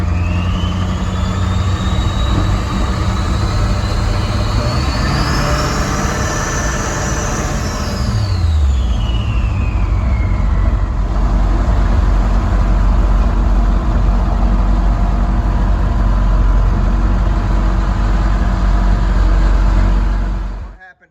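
A 1971 Chevrolet C10 fitted with a Duramax diesel engine and a loose turbo hose drives on a test run. The engine drones loudly and steadily, with a rising and falling rev sweep early on, before cutting off at the end.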